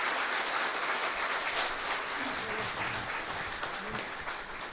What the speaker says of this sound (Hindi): एक बार भरपूर तालियों से स्वागत करेंगे।